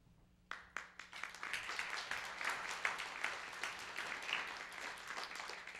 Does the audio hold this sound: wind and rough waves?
no